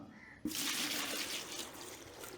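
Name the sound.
water poured into a bucket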